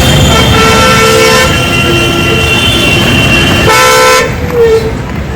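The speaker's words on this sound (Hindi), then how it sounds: "गाड़ी आ रही है, देखो।" A car horn blares on a street at night outside the Alipore Jail Museum in Kolkata, with one long honk followed by a shorter second blast over loud, close traffic noise.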